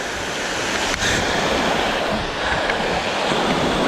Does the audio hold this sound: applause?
no